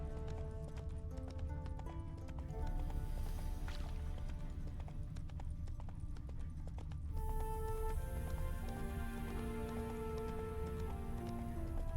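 Horse hooves clip-clop steadily as the horse carries a heavy load, a continuous rhythmic stream of hoof beats at moderate distance over low background rumble and a brief whinny-like sound.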